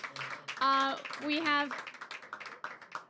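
Audience applause for a conference panel at COP 28: light, rapid claps in a hall that grow more distinct toward the end, with voices speaking and calling out over them.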